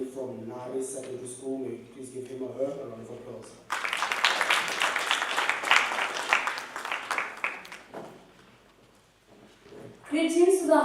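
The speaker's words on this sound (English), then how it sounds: "May you please give him or her a round of applause." Applause breaks out for the final speaker at a secondary school road safety debate competition, a dense, sustained clapping from the audience that swells loud, then thins and fades before a voice starts at the end; talk is heard before it.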